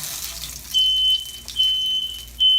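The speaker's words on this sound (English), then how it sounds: "There goes my smoke detector." A high-pitched smoke detector alarm beeps in three steady, piercing bursts over a background of running water in a kitchen.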